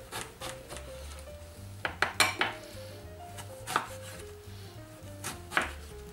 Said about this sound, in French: Je les coupe une fois en deux, encore une fois en deux, et puis en quatre